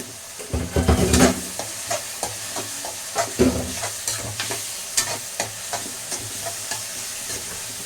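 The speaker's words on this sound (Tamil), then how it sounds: "தக்காளி வந்து நல்லா வதங்கணும்" Two tomatoes sautéing with ginger garlic paste in a pan for a Sunday prawn gravy, with a close, steady sizzle and two louder bursts of stirring and scraping early on, followed by softer intermittent spoon knocks.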